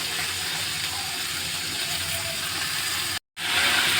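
Leafy greens hit a hot pan for a fried greens dish, giving a loud, steady hissing sizzle that briefly drops out before resuming.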